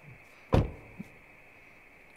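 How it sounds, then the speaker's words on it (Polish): A door shuts in the dark puzzle-platformer game Inside with a single sharp, fairly close thud, followed by a faint low knock and quiet ambient hum. No one speaks. "Okej, zamknął drzwi."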